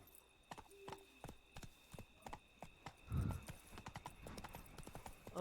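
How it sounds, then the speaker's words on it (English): A horse gallops in The Witcher 3, its hooves drumming in a quick, steady clip-clop rhythm close up, with a brief vocal outburst midway. "Run, Roach"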